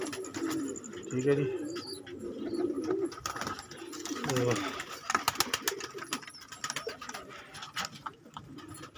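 Pigeons coo softly nearby with a few chirps and flutters, while someone speaks briefly over the birds.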